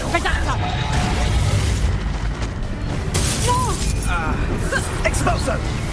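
An Expulso spell blast in Hogwarts Legacy, a dense booming explosion within loud, continuous game noise, with a voice heard over the action.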